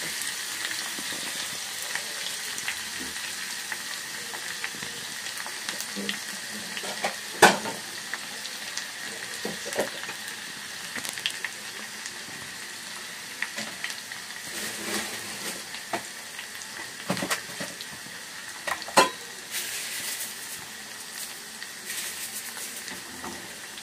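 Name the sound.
crushed garlic frying in oil on low flame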